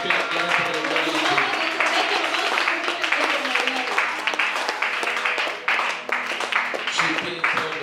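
A church congregation applauds and cheers loudly and continuously, dense clapping with voices and music mixed in, close and sustained throughout.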